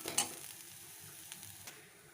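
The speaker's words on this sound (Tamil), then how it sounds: "இந்த கடலை மாவை போட்டு இதை நல்லா வறுத்துக்கிறோம்" Gram flour roasts in oil with cumin, fennel and green chili, giving a faint sizzle with a sharp scrape of stirring near the start and a few soft clicks afterward.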